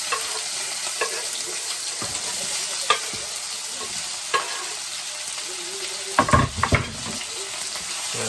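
Onions hit a pan of spluttering mustard seeds in hot oil. A steady bright sizzle runs throughout with faint stirring taps, then a louder crackling burst and clatter as the onions drop in, without any talking.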